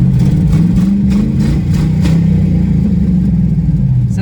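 Straight-piped engine of an old Mercury car that had sat unused for years, idling with a deep, steady low rumble, loud and close, with no one talking.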